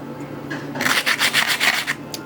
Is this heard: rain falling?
no